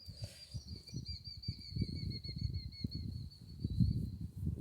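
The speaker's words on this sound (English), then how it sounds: "Y'all hear them birds?" Birds chirp in thin, high repeated trills outdoors, fairly faint, over a low rumble of wind or handling noise.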